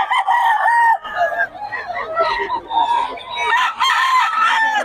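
Farm-raised roosters in Bocaue crow loudly and close by, several calls overlapping one after another, with clucking mixed in throughout.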